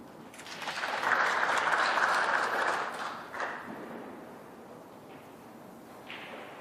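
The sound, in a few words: applause from snooker crowd at next table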